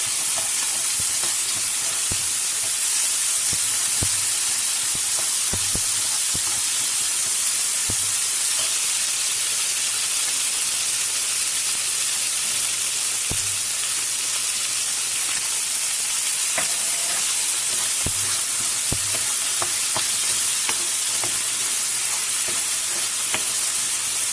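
Ginger garlic paste fries with browned onions in a pan, producing a loud, dense, continuous sizzle with crackling pops and occasional stirring scrapes, close up and without talking.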